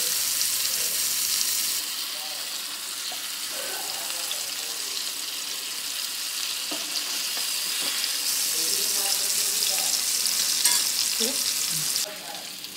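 Karli fish frying in hot oil in a home kitchen, a continuous bright close sizzle with occasional faint pops and utensil taps underneath.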